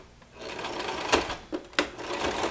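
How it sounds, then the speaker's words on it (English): A sewing machine stitches a gathered ruffle onto a fishtail skirt, a close steady whirring run broken by a few sharp clacks as the fabric is handled. "So I'm going to sew that all the way into the end of that string there."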